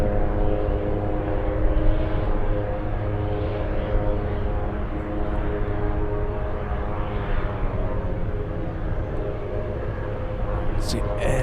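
A FedEx cargo aircraft arriving from Singapore approaches Anchorage airport, a continuous loud jet engine roar with a steady droning hum that holds evenly throughout.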